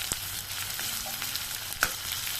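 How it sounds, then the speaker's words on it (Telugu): Onions, mustard seeds, cumin and curry leaves fry in a pan with a close, steady hiss, broken by a couple of sharp crackles and pops as the seeds and leaves spit in the hot oil. "2 రెమ్మల కరివేపాకు వేసుకొని ఫ్రై చేసుకోవాలి"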